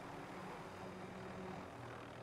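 Helicopter in Call of Duty gameplay, a steady broadband rotor and engine drone that holds at a constant level throughout without breaks.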